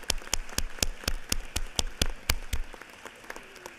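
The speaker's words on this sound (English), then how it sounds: "Can we rise and give them some hands, clap of praise?" Slow, rhythmic clapping rings out in a state House chamber during a legislative session, about a dozen evenly spaced claps that stop abruptly, leaving faint room noise.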